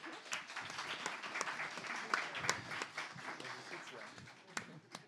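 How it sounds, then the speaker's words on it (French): An audience at a cybersecurity forum panel gives a fairly quiet round of applause, with individual claps standing out irregularly and some talk running underneath. "On peut applaudir Émilie."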